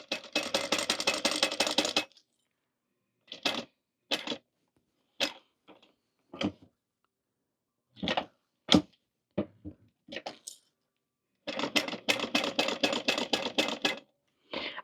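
A sewing machine stitches the corners of a vinyl coffin pouch in short stop-and-start bursts, a longer run at the start and end with brief single-stitch clicks between them while the fabric is pivoted, close and clear.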